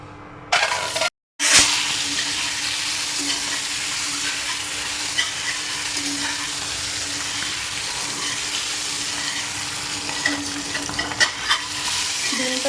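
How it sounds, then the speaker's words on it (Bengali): Eggs frying in hot oil in a wok for egg curry, a steady crackling sizzle with occasional stirring clinks and scrapes, close and continuous after a brief gap near the start. "ডিমটা খুব ভালো করে নাড়িয়ে চাড়িয়ে একদম ফ্রাই করে নেব।"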